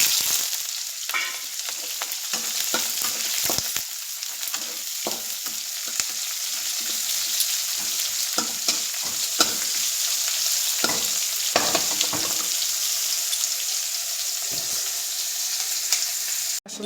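Vegetables and onion fry in a pan with a steady loud sizzle, broken by scraping stirs and clinks throughout, with no voices.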